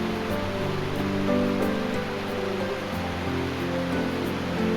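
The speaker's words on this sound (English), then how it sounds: "We'll cross right below the falls." A creek rushes below a waterfall near Granite Hot Springs in Wyoming, a steady, close, broadband roar of flowing water with no break across the clip.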